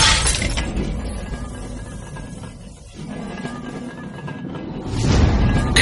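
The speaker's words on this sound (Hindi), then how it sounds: "खिड़की का शीशा फोड़ते हुए उनकी खाई में फेंकी हुई दूसरी बोतल" A thrown bottle shatters window glass loudly at the start, then fragments rattle through a quieter stretch before another crashing burst near the end.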